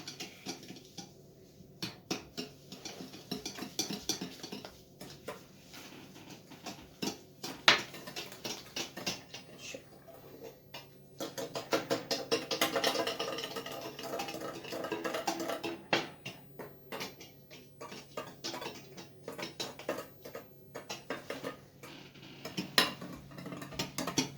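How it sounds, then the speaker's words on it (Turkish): Continuous scraping and clinking of a utensil stirring wet cake batter by hand in a bowl, a steady rhythmic churn close by, growing busier midway through. "Şimdi eriyene kadar karıştırıyoruz bunu."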